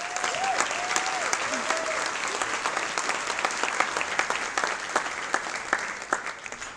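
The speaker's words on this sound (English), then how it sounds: "a round of applause for all of them" Sustained applause from an audience at a downtown business lunch event, dense steady clapping throughout with some crowd noise and a brief voice early on.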